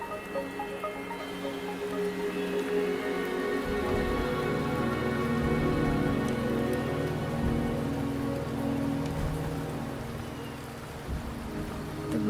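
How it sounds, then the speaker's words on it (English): Steady rainfall in the video game Wuthering Waves patters densely on surfaces throughout, continuous and fairly loud, with a faint low rumble underneath. "The rain is subsiding, and the sky will soon clear."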